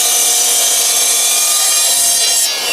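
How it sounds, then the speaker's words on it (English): A wooden cladding board is cut to length with a loud, continuous, close-up rasping saw that runs steadily before easing off at the very end. "the first thing we need to do is cut the length of the board"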